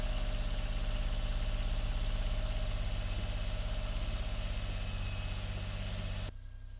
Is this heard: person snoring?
no